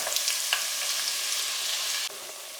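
Diced onion frying in hot oil for Nigerian pepper sauce, a dense, continuous close sizzle and crackle that drops slightly in level near the end, with no voices.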